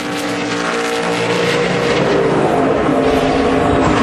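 NASCAR stock cars battle for the lead at Watkins Glen road course in 2011, a loud, continuous engine roar that swells steadily as the cars pass close by, with no voices over it.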